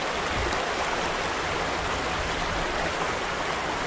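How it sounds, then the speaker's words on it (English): Creek water trickles into a deep pool on a trout stream, a steady, close, even rush of broadband water noise with no voices. "where the water's trickling into that pool"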